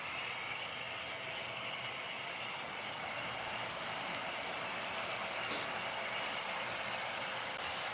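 A model train locomotive runs steadily with a continuous faint mechanical whir and hum, and one brief click near the end.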